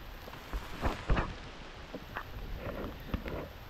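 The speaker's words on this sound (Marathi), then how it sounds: "जोरात पाऊस आलाय" Heavy rain falls during a cycling ride through a forested tiger reserve, a steady wash of downpour with scattered louder drops and thuds close by, no voices.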